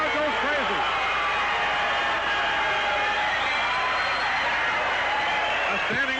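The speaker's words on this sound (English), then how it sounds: "This crowd goes crazy." Crowd roaring and cheering at the 1972 World's Wristwrestling Championship armwrestling match, a dense, loud, continuous wash of many voices that fills the whole stretch, with excited shouts rising out of it and no break.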